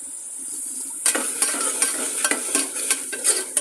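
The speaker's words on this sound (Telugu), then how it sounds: "పచ్చివాసన పోయే వరకు వేగించుకోవాలి" Ginger garlic paste fries in a pan for a bean and toor dal curry, a bright steady sizzle that jumps in loudly after a second, punctuated by repeated spoon stirring strokes, close up with no speech.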